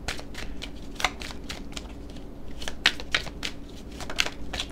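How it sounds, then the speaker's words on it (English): Tarot cards being shuffled, a dry papery riffle of soft flicks and sharper snaps spaced irregularly, close and fairly quiet over a faint steady room hum, with no talking. "Let me just shuffle that card as well."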